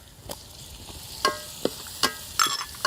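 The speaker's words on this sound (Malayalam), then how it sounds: "നമ്മുടെ കൊച്ചുള്ളിയും തക്കാളിയും പച്ചമുളകും എല്ലാം നല്ലതായിട്ട് വഴണ്ട് വരട്ടെ" Shallots, tomato and green chili sauté in a pan for a Kuttanadan duck curry. A soft, steady sizzle runs underneath while a spoon scrapes and taps against the pan in sharp, irregular strokes.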